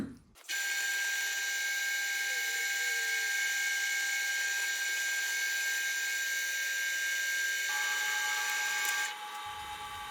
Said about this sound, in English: Drill those holes.